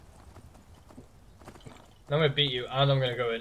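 Horse hooves clip-clop in a rhythmic trot while riding in a video game. The hoofbeats sound alone at first, then a person starts talking loudly over them.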